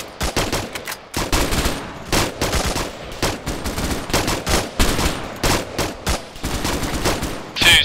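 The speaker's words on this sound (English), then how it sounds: "Gentlemen, maintain your steady suppressing fire." Suppressing machine-gun fire in a military combat video game, dense rattling bursts of automatic shots following one another almost without pause, loud and close throughout.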